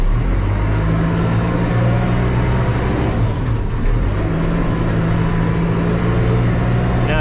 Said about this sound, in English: Okay, we got some cars coming.